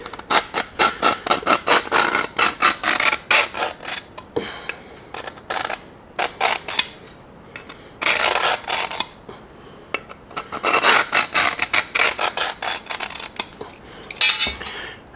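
A scribe scratches a line into sheet metal for a truck cab rust repair, bursts of harsh, close rasping strokes repeated in quick series with short pauses between passes.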